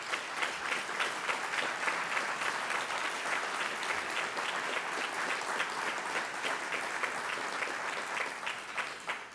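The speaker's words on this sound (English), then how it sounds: "let us give you a round of applause, the donors to this building" An audience applauds donors at a building dedication ceremony, a steady, full round of clapping sustained for several seconds before tapering slightly at the end.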